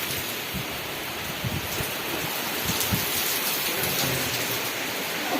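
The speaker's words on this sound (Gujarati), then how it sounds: "વરસાદના ફોરા ઉડે" Dense, steady rain hiss with scattered heavier drops pattering on surfaces nearby, continuous throughout with no voices.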